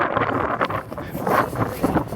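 Strong wind gusts buffet the microphone outdoors on a hillside, a loud continuous roar rising and falling in waves with no talking.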